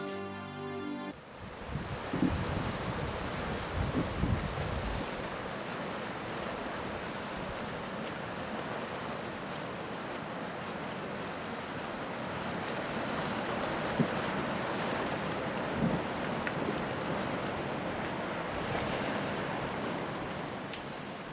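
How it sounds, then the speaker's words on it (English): River water runs beneath floating ice on the frozen Zanskar river in a snowy Himalayan gorge, a steady broad rushing wash with wind buffeting the microphone, continuous and fairly close, with no talking. "Ice is dancing on the water."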